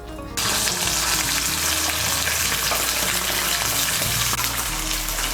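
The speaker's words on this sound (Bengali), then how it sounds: "তেলটা গরম হলে প্রথমেই আলুগুলো ভেজে নেব।" Boiled, halved potatoes fry in hot white oil in a kadai, a steady, close sizzle that holds evenly throughout with no talking.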